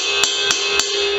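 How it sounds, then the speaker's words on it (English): Shoulder of a drumstick striking a ride cymbal in a drumset study, three evenly spaced loose strokes over a sustained shimmering wash, close and clear. "I play this part of the stick on the cymbal"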